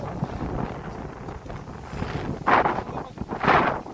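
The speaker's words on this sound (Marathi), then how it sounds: "लय म्हणजे लय वारं सुटलं" Strong wind buffets the microphone in rough, gusty surges, with two louder blasts near the end.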